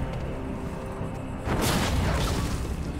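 A Fortnite rocket launcher blast goes off midway as a sudden boom with a burst of debris-like rumble after a low steady background.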